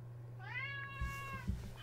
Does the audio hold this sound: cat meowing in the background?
yes